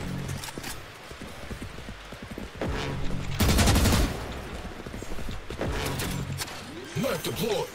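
Gunfire in the video game Valorant: bursts of rapid rattling shots and sharp cracks with clattering effects, fairly loud and close, ending with a whooshing sweep.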